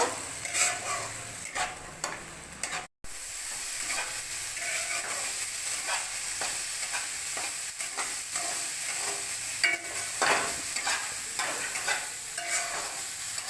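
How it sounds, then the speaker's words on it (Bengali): Carrots, beans and peas frying with bay leaves in a pan, a steady close sizzle broken by repeated spatula stirs and scrapes, with a brief dropout near the start and no talking. "সবজিগুলো ভালো করে ভেজে নিচ্ছি।"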